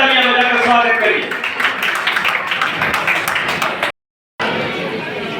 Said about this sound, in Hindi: ये तीनों बेटियां जिनके लिए जोरदार तालियां बजाकर स्वागत करिए